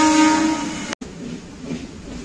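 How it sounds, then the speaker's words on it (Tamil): A Vande Bharat train crawls slowly over waterlogged tracks during a cyclone, giving a close, loud rumbling run with a steady tonal whine that cuts out abruptly, then continues as a fainter rolling noise. "ட்ராக்லலாம் தண்ணி தேங்குதுனால தான் இவ்வளோ ஸ்லோவாக போகுது."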